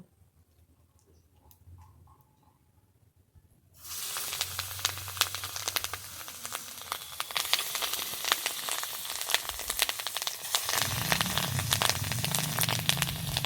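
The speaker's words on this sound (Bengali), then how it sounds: "কড়াইতে সাদা তেল দিয়ে দিয়েছি আমি এবারে ডিমটাকে ভেজে নেব" Fish roe hisses and sizzles loudly in hot white oil in a wok, a steady crackling fry after a quiet start, with a low bubbling swell near the end.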